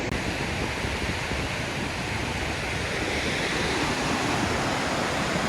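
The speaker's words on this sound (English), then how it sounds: "This is Rainbow Falls." Rainbow Falls at Victoria Falls thunders in a steady, dense roar of falling water, loud and close, broadband and unbroken throughout with no voices.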